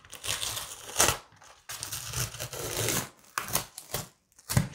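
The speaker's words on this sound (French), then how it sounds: "Alors j'enlève le scotch" Crackly, crinkling tearing noises come in several uneven bursts with short pauses, close up, as tape is peeled off an acrylic canvas.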